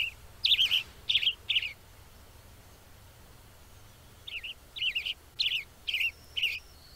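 On Mount St. Helens, a songbird with a bright red-orange head and yellow body gives short, clear chirps, first a quick group of three, then after a pause a longer run of six or seven evenly spaced calls.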